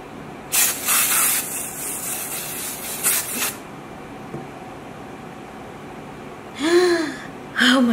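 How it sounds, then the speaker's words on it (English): Glitter spray hisses in bursts over a body: a long spray, a shorter one, then quiet room noise, with a gasp and a short vocal sound near the end. "I sprayed so much over me."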